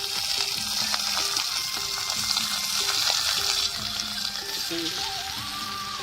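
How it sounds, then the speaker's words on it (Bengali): Potato and yardlong beans fry in hot oil with a steady, close sizzle that carries on throughout, along with some stirring and faint background sounds. "এক এক করে সবজিগুলো ভেজে নেব"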